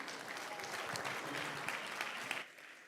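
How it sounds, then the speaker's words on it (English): Warm audience applause at a youth leadership debate grand finale, sustained steady clapping from a large crowd that fills the room, then quickly dying away near the end. "With a warm applause,"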